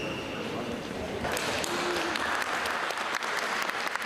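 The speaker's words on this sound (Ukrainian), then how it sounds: "Отримавши овації публіки" A crowd applauds at a service dog tournament in Kyiv region, a dense, even patter of clapping that swells slightly after the first second and holds steady, with a faint voice underneath.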